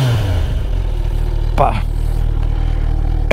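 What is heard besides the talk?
Kawasaki Ninja 1000SX motorcycle engine revving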